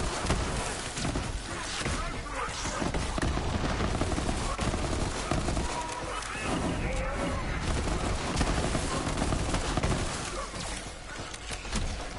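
The Hornet legendary pistol from Borderlands 3 fires rapidly amid a dense, loud barrage of gunfire and blasts that continues almost without a break, with other combat noise layered underneath.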